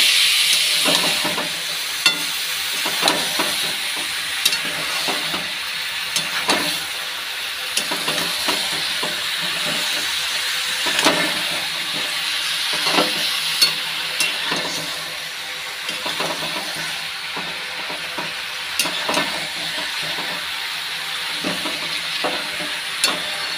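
Spices fry in a pan with a continuous sizzling hiss, broken by repeated clinks and scrapes of a spoon stirring at irregular intervals, close and steady throughout.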